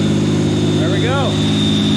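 An RB25DET engine swapped into a Datsun 240Z idles loudly nearby while a thin, high alternator squeal sits steadily above the engine note, with short warbling chirps near the middle.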